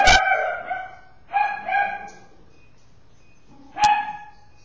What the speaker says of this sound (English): the rest are going to bark in a minute